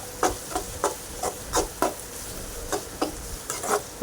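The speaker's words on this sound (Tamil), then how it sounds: "நல்லா பொன்னிறமாக ஆகிற வரைக்கும் வெங்காயத்தை வதக்கிக்கிட்டே இருங்க." Onions sauté in a pan for paper chicken while a spoon stirs them, producing regular scraping strikes every half second or so over a continuous soft sizzle, close up with no voices.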